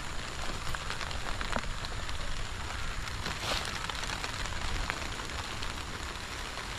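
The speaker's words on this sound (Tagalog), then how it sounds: "Naambon na. Aabuti pa tayo ng ulan." Light rain beginning to fall over a pomelo orchard, a soft, steady hiss of drops with faint scattered patters, quiet and continuous with no talking.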